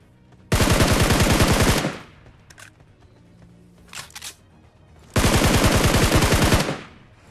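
Gunfire in the mobile battle royale game BGMI comes as two loud, dense bursts of rapid automatic shots, each lasting over a second, separated by a quieter gap with faint in-game sounds.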